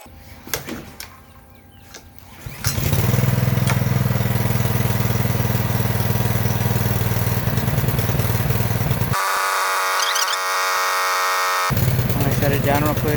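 Ryobi 3300 psi gas pressure washer engine pulled into life after a quiet start, settling into a loud, steady idle with a brief drop in the engine note partway through.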